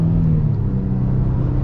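A 2026 Nissan Frontier SV pickup engine revs out smoothly, a steady close rumble with firm low harmonics holding even for a moment, with no voices over it.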